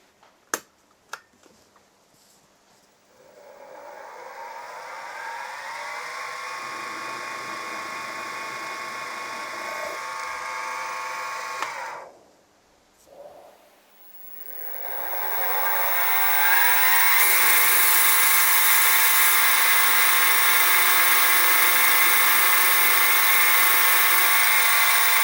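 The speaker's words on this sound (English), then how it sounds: "it's just now a matter of drilling and tapping" A steady mechanical whir of a drill running on a metal bracket for a model steam engine, pausing briefly, then resuming louder and higher, after a few sharp clicks at the start.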